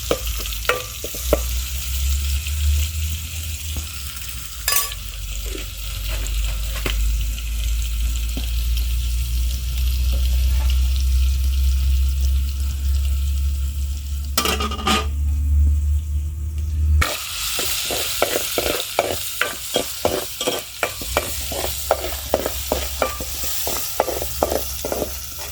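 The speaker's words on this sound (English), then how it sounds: "We shall wait until our onions are turned golden brown." Onions frying in a pan over a village cooking fire, a continuous close sizzle with a low rumbling hum underneath for much of the time, then a run of rhythmic scraping stirs toward the end.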